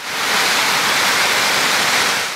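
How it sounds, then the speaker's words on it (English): Steady broadband rush of the Cascade in Melrose, a 40-foot waterfall, a loud continuous roar holding level from start to finish with no voices. "the Cascade in Melrose, a waterfall taller than a house"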